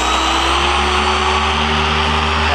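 A dual action polisher whirs at high speed with a loud, steady, unbroken drone, close up with no pauses.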